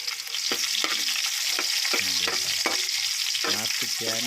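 Garlic sizzling in hot oil in a pan for chicken-feet adobo, a steady loud frying hiss with a few stirring scrapes, while a voice speaks briefly over it.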